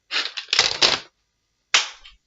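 Nerf toy gun shots: a quick cluster of sharp pops followed by one more a moment later, close and loud, with no talking.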